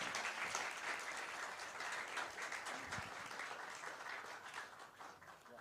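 Sustained applause from a conference audience as a memento is presented at a political conclave, dense steady clapping at moderate level with no talk over it.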